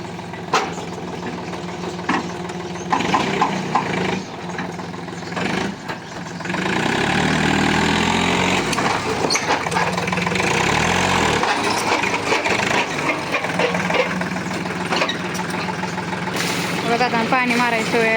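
A tractor engine idles steadily with a low, continuous rumble through most of the clip, getting louder and fuller after the first several seconds, while a person talks over it.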